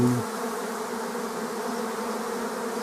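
A swarm of bees buzzes steadily near an apiary in Tetiiv, a dense continuous drone that stays close and even from start to finish.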